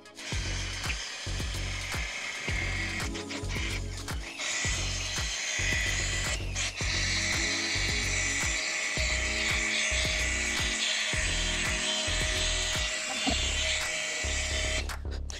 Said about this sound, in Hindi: अब हम हाई ग्लॉस कंपाउंड लगा के इसे एक बार स्पंज के मदद से पॉलिश करेंगे